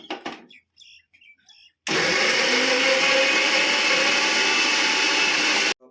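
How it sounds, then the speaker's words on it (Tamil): Mixer grinder whirring at full speed as it grinds green chillies for a village-style chicken BBQ marinade, a loud steady motor roar starting abruptly after a few faint knocks and cutting off near the end. "ஃபர்ஸ்ட் நம்ம எல்லாம் நல்லா பச்சை மிளகாவை அரைச்சி எடுத்துக்கலாம்."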